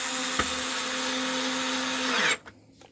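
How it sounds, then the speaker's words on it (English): A power driver whirs steadily while running screws back into a Tannoy SFX5.1 subwoofer speaker, its motor humming close by for about two seconds before it cuts off abruptly, leaving faint handling noise. "Here we are, putting some screws back into a speaker."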